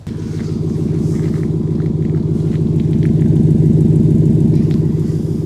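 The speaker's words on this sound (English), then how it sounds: "Now that exhaust, that was just normal mode." A Ford F-150 Raptor R truck exhaust in normal mode rumbles loud and steady close by, with a deep, even burble that swells slightly midway and carries on without talk.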